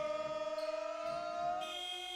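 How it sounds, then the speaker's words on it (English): Electronic buzzer at a WBBL Championship women's basketball game between Newcastle Eagles and Caledonia Gladiators, a sustained steady tone over faint ball bounces and crowd noise in the arena. "On the buzzer, a 3-point shot by Robin Lewis is good"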